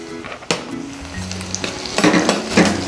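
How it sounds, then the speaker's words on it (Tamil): Curry leaves hit hot oil in a brinjal kaara kuzhambu gravy with a loud, close crackling sizzle, stirred with scraping strokes that swell toward the end. "இப்போ இந்த ஸ்டேஜில் நான் கொஞ்சம் கறிவேப்பிலை போட்டுக்கிறேன்."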